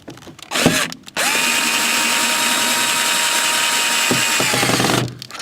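A power drill drives a screw into the arm panel of an Osaki OS 4000 massage chair, with a short burst, then a loud sustained whirring run of about three seconds, with handling clicks before and after.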